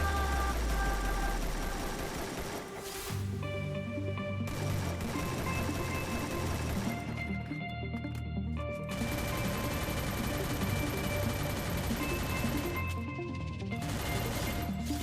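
Gunfire in a Free Fire squad match on the Bermuda map, with dense bursts of shots and crashes over a busy game soundtrack that runs steadily loud throughout.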